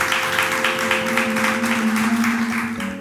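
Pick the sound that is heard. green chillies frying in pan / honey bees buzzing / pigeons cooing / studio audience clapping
studio audience clapping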